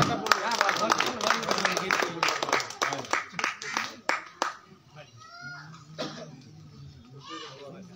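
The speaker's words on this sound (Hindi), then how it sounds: "सब टे ताली मारो" Audience clapping at a Kosli poetry and dance gathering, a burst of sharp handclaps with overlapping voices that thins out and fades, leaving scattered talk and a few stray claps.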